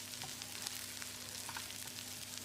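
Garlic, ginger and chopped onion sizzle steadily in a tablespoon of oil in a pan, a close, even frying hiss with faint crackles and no talk.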